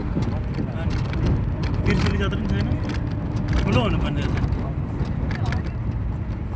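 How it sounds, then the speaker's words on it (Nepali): A car drives along a riverside road on a long trip, its continuous engine and road rumble steady throughout, with a person talking over it at times. "गाडी गुडिरहेको छ।"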